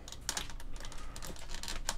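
Clicks and clacks from an IBM KB 9823 keyboard as a keycap is lined up and pushed back onto its switch, several sharp close taps in an uneven rhythm.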